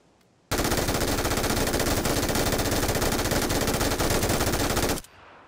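An MG3 light machine gun in PUBG fires one long, unbroken full-auto burst of about four and a half seconds, loud and rapid, starting and stopping abruptly against near silence.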